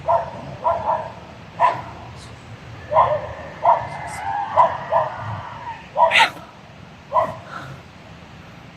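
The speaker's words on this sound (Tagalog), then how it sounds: "May asang tumatahol." A dog barks repeatedly in short bursts from a distance, with someone speaking quietly over the barking.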